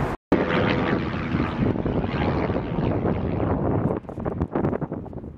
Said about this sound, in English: that was an old plane